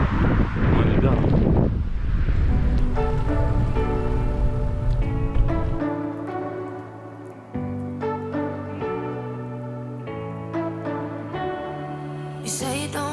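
Rough wind buffets the microphone for several seconds near Villeneuve-lès-Maguelone on the ViaRhôna cycle route, then dies away as steady melodic music takes over.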